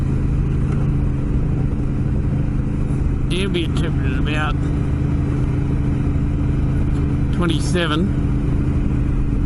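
A vehicle engine runs at steady cruising speed on a desert drive in warm weather, a constant low drone with road rumble throughout while someone talks over it.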